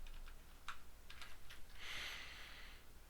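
A computer keyboard typed on while playing the Sierra adventure game The Colonel's Bequest: a few scattered sharp key clicks, then a brief cluster of quick taps.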